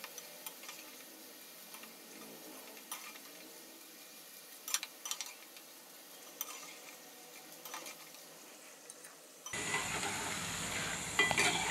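Cheeselings, rolled thin, deep-frying in hot oil as a quick tea-time snack, giving a steady soft sizzle and bubbling throughout that grows louder and brighter near the end, with no talking.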